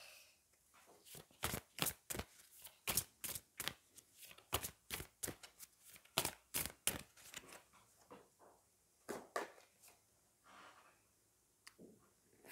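Magic of You oracle cards being shuffled and drawn: a run of quick, crisp riffling bursts in close succession, then scattered softer card flicks and handling noises toward the end, with no talk.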